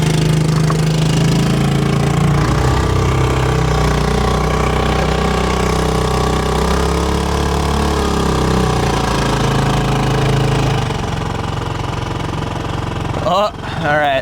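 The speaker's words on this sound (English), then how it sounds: "The motor's pulling me in reverse." A sailboat's outboard motor runs in reverse while anchored off a Newfoundland coastal cliff, a steady loud mid-pitched engine drone throughout, with a brief clunk near the end.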